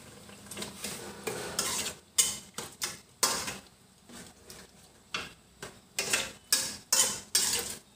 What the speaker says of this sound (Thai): ใส่หนังลงไปแล้วก็คนจ้ะ